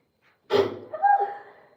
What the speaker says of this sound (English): Every time I touch spices, I just sneeze.